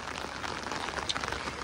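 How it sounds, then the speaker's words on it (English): Steady patter of rain falling on a surface in Armidale, Australia, soft and fairly distant, with no voices. "It's raining."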